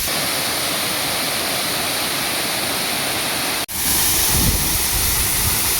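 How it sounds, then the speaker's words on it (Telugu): Steady, loud rushing of the Arpana waterfall near Rayagada, a constant broadband roar with a brief dip partway through before the torrent continues, slightly fuller and heavier. "ఇదే మా ఊరు వాటర్ ఫాల్"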